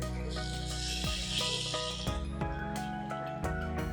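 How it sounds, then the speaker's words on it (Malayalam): A hot tempering of mustard seeds, dried red chillies and curry leaves in oil is poured into a homemade ripe mango pulissery, bursting into a bright close hiss and sizzle with a few soft clatters of the pan. "ഇനി നമ്മുടെ കറിയിലേക്ക് ഒഴിക്കാം."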